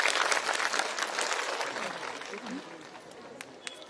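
Audience applause at a gathering, a dense burst of clapping that is loudest at first and slowly thins out, with a voice speaking over it.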